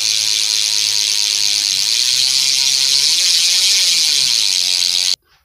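Loud, continuous buzzing ratchet of a BMX rear hub freewheeling at speed after being modified to be louder, a dense close whir that cuts off abruptly at the end.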